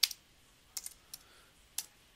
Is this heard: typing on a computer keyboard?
yes